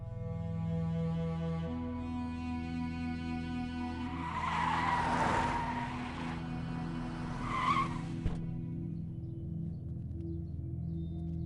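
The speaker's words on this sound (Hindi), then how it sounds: "बादशाह, गाड़ी निकलो।" A car pulls away with tires skidding and squealing, a loud screech rising mid-clip over a steady engine drone and background music, with a second shorter squeal after it.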